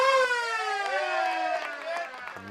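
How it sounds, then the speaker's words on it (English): A loud, drawn-out full-time siren at Thirlmere Sports Ground ends a country rugby league first-grade match, its harmonic wail sliding downward as faint crowd noise and voices carry underneath. "Siren sounds in the background."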